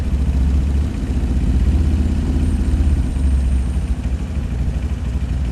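Motorcycle engine with a Juken 5 ECU idling steadily after an auto-mapping setup, a loud, continuous low rumble with faint clatter and no one talking.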